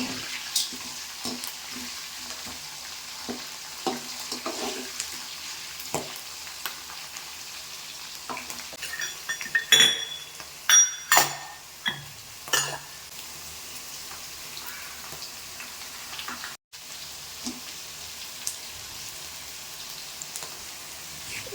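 Ingredients for mango rice fry in a pan and are stirred, a quiet background sizzle broken by scattered scraping and clinking strokes of the spoon, with a busier burst of stirring midway.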